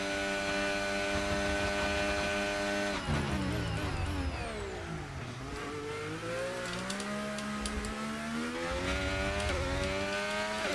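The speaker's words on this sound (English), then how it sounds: "Oh, the upshift!" An F1 car in the F1 25 video game holds a steady high engine whine, then shifts up with a sharp break in pitch and keeps revving and climbing, loud and close, with no talking.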